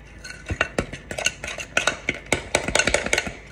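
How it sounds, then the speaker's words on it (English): A spoon stirs melted butter into a dry, powdered cake mix for a blueberry cake in a single bowl, giving a close run of scraping, clinking strokes against the bowl in an uneven rhythm with no talk. "I'm just gonna kind of stir this up"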